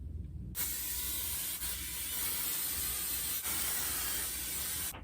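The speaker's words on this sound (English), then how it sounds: "I'm just gonna soak this with texturizing spray and hairspray" A long, continuous hiss of John Frieda Dry Texture Spray, close and steady for several seconds, with a couple of tiny breaks before it cuts off.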